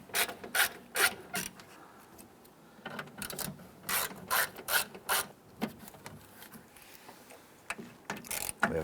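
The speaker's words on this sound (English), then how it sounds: "We're going to use a 7/32 socket and extension." A ratchet driving a 7/32 socket on an extension clicks in quick, quiet bursts as it backs out the door speaker screws on a 1995–2001 Ford Explorer, with short pauses between runs.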